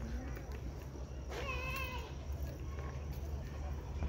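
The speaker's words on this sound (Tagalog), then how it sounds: "Mayroon na naman akong nakitang pusa." A cat meows outdoors in a botanical garden, a rising and falling cry near the middle, fairly close over steady ambient noise, with a low murmur of background voices.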